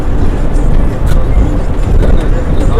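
A TNSTC bus driving fast on the NH 83 highway from Coimbatore to Karaikudi, heard as a loud, close, continuous low engine and road rumble with steady rushing wind noise.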